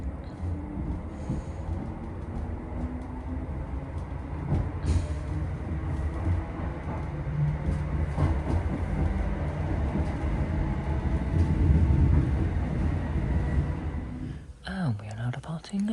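A train pulls out of Dalmarnock station in Glasgow with a steady rumble of wheels and carriage noise throughout, growing slightly louder midway, while a voice speaks over it.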